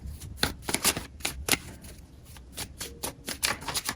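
Tarot cards riffle and snap in quick bursts as a deck is shuffled and a card drawn, close and crisp with uneven rhythm and no talking.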